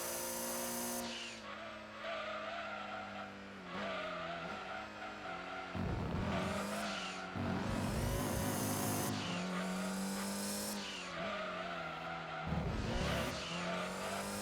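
A race car in Gran Turismo 2 veers off the road: a loud, continuous engine roar with shifting revs, punctuated by repeated tire squeals and skids, with no talk.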